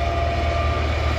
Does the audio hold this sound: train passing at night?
yes